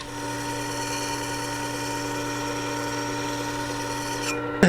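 A Stanley No 36 plane iron rubbed back and forth on 220-grit abrasive over a glass plate, giving a steady, continuous gritty rasp held close and loud, ending in a short bump.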